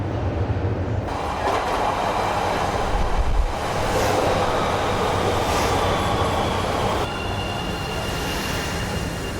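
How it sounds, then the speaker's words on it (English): Chicago L Blue Line train rolling into an underground station on rails, a steady loud rumble with faint wheel clatter and high squeal throughout, close by, with no talk over it. "This is a Blue Line train to O'Hare."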